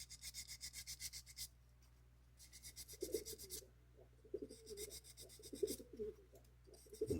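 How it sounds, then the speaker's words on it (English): Fine finishing sandpaper rubs the wheels of a Hornby Triang Britannia model steam engine in quiet rhythmic strokes. Soft cooing birds are heard in the background between the strokes. "this is just a real fine finishing sandpaper"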